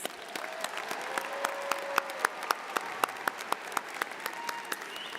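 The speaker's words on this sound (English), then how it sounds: "Let's give him another round of applause" A commencement audience at a College of Health and Human Sciences ceremony applauds, with steady clapping and a few sharp claps standing out.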